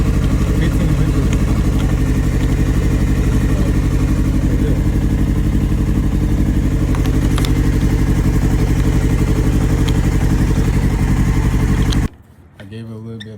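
A Honda CBR600 F3 motorcycle engine runs steadily and loudly up close with a dense mechanical clatter, rising briefly with a little throttle before cutting off sharply near the end.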